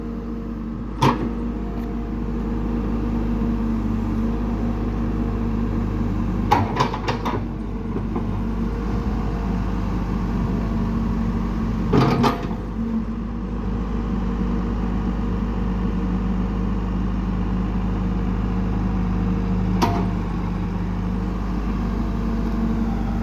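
A CAT E120B excavator engine idles and revs gently in a steady, low continuous drone, with a few brief sharp knocks or clunks scattered through it.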